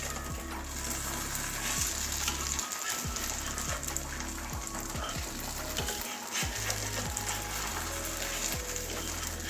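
Cauliflower paratha frying in oil in a pan, giving a steady, dense sizzle that crackles on throughout with brief dips and small knocks underneath.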